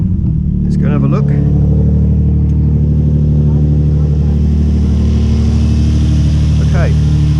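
A Nissan 350Z with a Mishimoto cold air intake idles steadily at close range, a low even engine hum running throughout while someone speaks over it.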